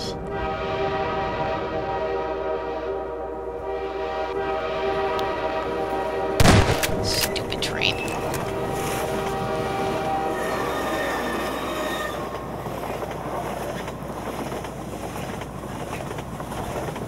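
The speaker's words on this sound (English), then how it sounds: "getting hit by a train would be pretty dramatic" A train passes in the video game Half-Life 2 with a constant heavy rumble and clatter, a loud sudden crash or horn blast midway, then squealing wheels and continuing rail noise fading slowly.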